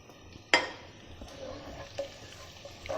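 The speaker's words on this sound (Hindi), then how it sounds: "ऐसे 20 सेकंड के लिए इसे हमने भूनना है गरम मसाले को।" Garam masala and cumin roasting with browning onions for dhaba-style chicken keema, heard as a soft, close sizzle with a sharp utensil scrape on the pan and a few lighter stirring knocks.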